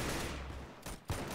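Gunshots from the Roblox game Arsenal, with sharp bursts near 0.85 and 1.1 seconds that stand out over a steady background of game sound.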